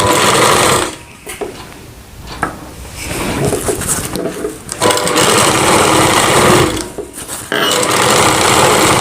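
A sewing machine stitches a Rajputi kanchali blouse, running in loud, steady bursts of motor whir and needle clatter with brief pauses between runs.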